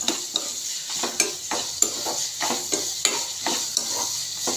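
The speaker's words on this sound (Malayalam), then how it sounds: "എന്നിട്ട് ഈ തക്കാളി ഉള്ളിയുടെയൊക്കെ കൂടെ അതൊന്ന് വഴറ്റിയെടുക്കുക." Tomato, onion and bilimbi are sautéed in a pan: a close, continuous sizzle broken by repeated scraping stirs of a spoon, heard alone without talk.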